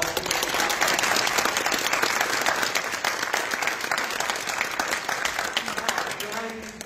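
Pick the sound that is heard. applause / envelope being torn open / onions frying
applause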